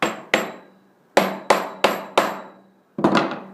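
A hammer taps a centre mark into the end of a timber blank being readied for the lathe, with six sharp, ringing knocks in an uneven rhythm and a short double strike at the end, close and clear.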